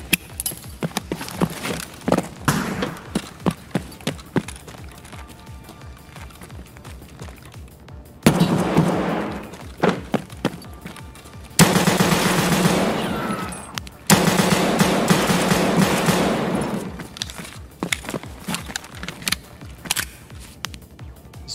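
FN Five-seveN gunfire in the shooter game Escape from Tarkov rings out as sharp, rapid shots in short bursts and scattered single cracks, with louder sustained volleys in the middle.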